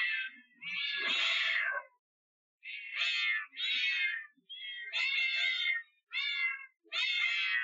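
Cats meow repeatedly from a Cat Blocks screensaver, a cacophony of overlapping high-pitched computer-generated cries in several bursts with short gaps, loud and close with no talking.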